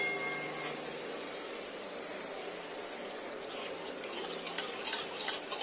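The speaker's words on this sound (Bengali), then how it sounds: "এটাকে এবার ভালো করে কন্টিনিউ নাড়তে হবে" A yogurt curry is stirred in a pan over a low flame, with soft scraping and gentle bubbling at a low, steady level. A few louder utensil clinks come near the end, and there is no talking.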